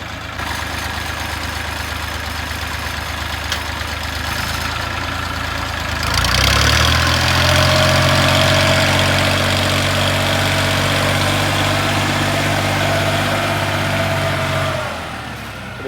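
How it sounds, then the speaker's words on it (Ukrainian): A Scout XT-244 tractor engine runs steadily with a deep, heavy rumble while ploughing gardens, then revs up harder partway through and holds a louder, higher drone before easing off. "такий грубий тракторець."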